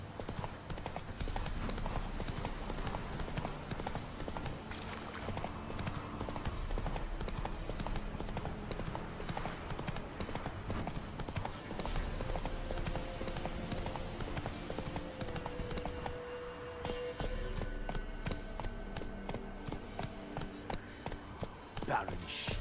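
Roach, the horse in The Witcher 3, gallops on with a fast, continuous clip-clop of hooves that runs the whole time, while voices talk over it.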